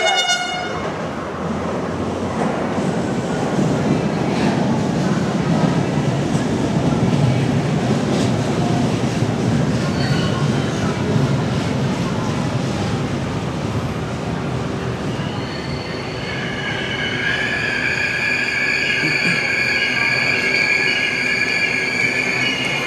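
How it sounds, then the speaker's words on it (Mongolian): A metro train pulls into a busy station in Manila with a loud, continuous rumble of wheels and carriages, then squealing brakes and shrill tonal whines in the final seconds as it slows. "За метро ирж явна."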